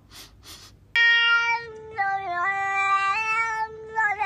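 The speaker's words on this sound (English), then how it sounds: "Kitty, say meow." A pet cat gives one long, drawn-out meow, loud and close, its pitch wavering and dipping as it stretches over several seconds after a few faint sounds.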